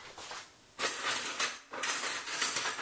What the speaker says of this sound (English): You want to mix your dry ingredients first, so I've got the salt, the baking powder, and the flour in here, so I mix it up real good.